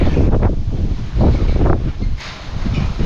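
Strong gusty wind buffets the microphone outdoors on a farm, rising and falling in rough surges with no talking.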